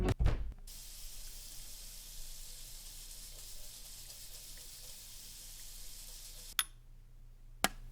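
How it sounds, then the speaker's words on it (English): A few loud knocks on a table at the start, then a faint steady trickle of running faucet water, with two sharp taps near the end. "I banged on the table, I ran the faucet water, then I moved my hand through the water"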